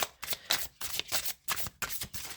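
A deck of tarot cards being cut and riffled close up, several quick papery bursts in a steady rhythm separated by short pauses, with no talking.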